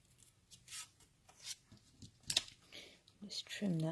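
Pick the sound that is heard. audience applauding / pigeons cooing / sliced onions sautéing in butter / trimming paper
trimming paper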